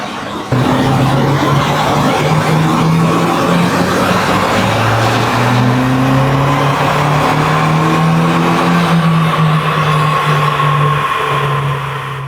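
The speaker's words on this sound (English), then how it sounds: "we are done dyno testing the car in completely bone stock form" A completely stock Suzuki car engine revs hard on a dyno, rising and holding through long, loud pulls with the pitch climbing and sweeping for several seconds before easing off.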